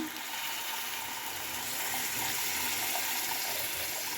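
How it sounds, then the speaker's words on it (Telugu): Tamarind juice poured into a pan for an egg omelette pulusu makes a steady, continuous liquid splashing and trickling, fairly soft and even, with no voices. "నేను చింతపండు రసం వేస్తున్నాను"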